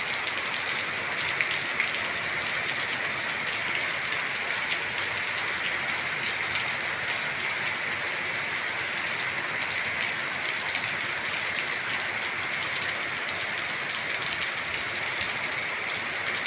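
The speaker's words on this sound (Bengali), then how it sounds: "আজকে সারা রাত হয়েছে এবং দিনে হইতেছে একইভাবে বৃষ্টি" Steady, dense monsoon downpour of heavy rain in Sylhet, Bangladesh, hissing continuously with no letup, close and even throughout.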